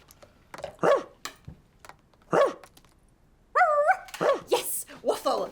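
A dog gives a few sharp barks and yips, spaced apart and then grouped near the end, with short whimpery notes between them and no talking over them.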